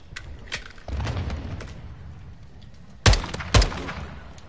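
Hip-fired gunshots in the Call of Duty Modern Warfare II campaign: two sharp, loud bursts close together near the end, after quieter background battle rumble.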